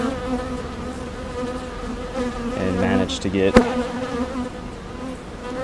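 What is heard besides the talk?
honeybees buzzing during beehive inspection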